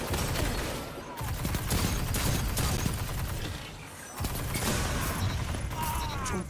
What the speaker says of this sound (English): You can tear people up a little bit with this gun.